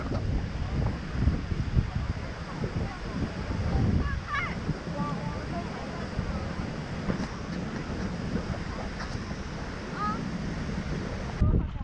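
A waterfall in Iceland roaring as a constant, dense rush of falling water with wind buffeting the microphone, loud and unbroken throughout, with faint voices underneath.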